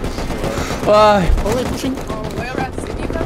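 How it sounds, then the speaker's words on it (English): Rocket launcher fire and explosions in the Rust video game, with triple-launcher rocket pushes: a heavy thumping burst with dense crackling impacts under continuous excited talk from players. "There's a lot of rockets now from north."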